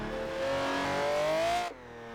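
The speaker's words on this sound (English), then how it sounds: "So definitely a lot of engine for the little car, but it does make an amazing noise." Toyota FRS fitted with a V12, drifting in fourth gear: a loud, steady high-pitched engine scream that climbs gradually for nearly two seconds, then drops abruptly as the throttle lifts, leaving a lower engine hum.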